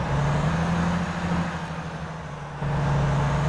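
A Volvo VNL truck engine in American Truck Simulator drones at a steady low pitch, close and fairly loud, dipping briefly before settling back to its idle hum, with no talk.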